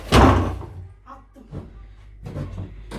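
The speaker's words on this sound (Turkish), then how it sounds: "Kapıyı da şöyle açayım." A household door opened during cleaning, a loud knock and thunk at the start followed by softer rattles and thuds, close by.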